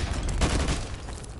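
Explosions from an airstrike in a PS2 video game come as a short, loud, rumbling burst of blasts and crackle that fades quickly.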